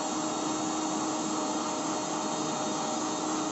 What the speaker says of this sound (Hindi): अब मैं इसको जो है बहुत अच्छी तरीके से ब्लेंड करूँगी।